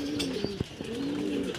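Young racing pigeons coo in a loft in La Union, with low rolling calls repeating close by and a few sharp taps and flutters between them.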